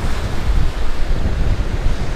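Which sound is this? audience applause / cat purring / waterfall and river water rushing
waterfall and river water rushing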